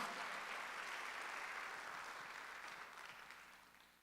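Church congregation applauding during a Sunday worship service, a steady wash of many hands clapping that holds evenly and then slowly tapers off, with no talking over it.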